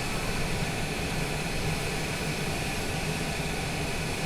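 An airplane taxiing back along the runway at Owen Roberts airport in Grand Cayman, heard as a constant loud engine drone with broadband hiss and a steady tonal hum, unchanging throughout.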